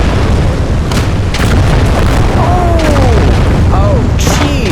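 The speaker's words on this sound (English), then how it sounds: "Alright, I'm gonna chuck a grenade right here." A grenade blast in the World War II video game Gates of Hell, amid trench fighting with enemy tanks nearby, delivers a loud sustained low rumbling boom, with a voice talking over the roar.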